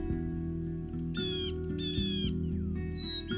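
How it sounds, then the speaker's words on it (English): Cute bird chirps from the Wingspan board video game play in short melodic bursts over a steady background music bed, several distinct calls in quick succession. "Yeah, they do chirp in different ways"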